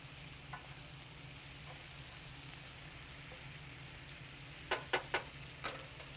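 Peppers and shrimp fry in a pan under a faint, steady sizzle, broken near the end by a quick run of four or five scraping stirs, with no talking.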